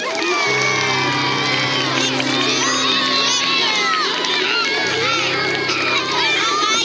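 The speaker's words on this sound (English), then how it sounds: "One more round of applause." Young kindergarten-to-second-grade children at a school assembly cheer and shout in a loud, continuous crowd roar, with high excited voices layered over a steady wash of noise.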